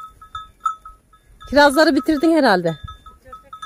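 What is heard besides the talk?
flock of sheep grazing by the roadside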